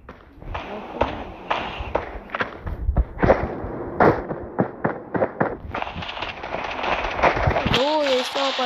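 Rapid sharp video game gunshot bursts crack in irregular volleys, some loud and close, with voices talking over them toward the end.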